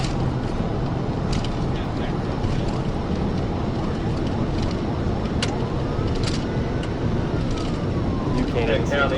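A police patrol car speeding at 115 mph on a two-lane road gives a steady, loud rushing roar of engine and wind noise throughout, with no break.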